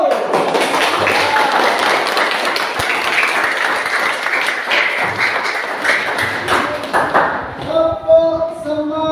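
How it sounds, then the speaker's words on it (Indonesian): Classroom students doing rhythmic spirit clapping before group presentations, a dense, lively burst of many hands clapping and tapping in patterns, close and loud, ending with voices chanting or singing together. "kita tepuk semangat dulu."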